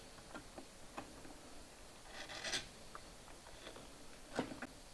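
Soft scraping strokes of a sharp chisel paring wood, a few short rasping cuts at close range, quiet and intermittent against a faint background.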